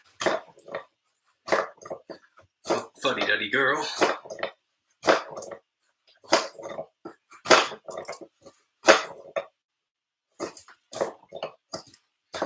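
A dog named Luna whines outside a door, thin muffled whimpers mixed with scuffling bumps, while a person talks nearby.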